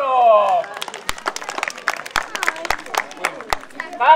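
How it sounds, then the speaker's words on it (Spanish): Applause for a bull, scattered, uneven claps from a small crowd, sharp individual hits over a quiet background, with someone speaking at the start and end. "Démosle un fuerte aplauso al toro."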